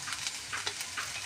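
Food being stirred with a utensil in a frying pan along with chopped garlic and spices, giving soft scraping strokes over a faint sizzle, quiet and close.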